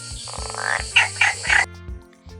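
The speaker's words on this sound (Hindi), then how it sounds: "मेंढक उछलते हैं और टर्टर की आवाज करते हैं" Several short, tonal frog croaks in quick succession, sounding close and somewhat cartoonish, with no talking.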